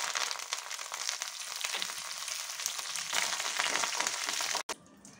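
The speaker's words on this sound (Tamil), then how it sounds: "கருவேப்பிலையும் போட்டுடலாங்க." Curry leaves sizzle fiercely in hot oil alongside mustard seeds, urad dal and dried chilies, a loud, dense, rain-like crackle held steady for several seconds before dropping abruptly to a softer hiss.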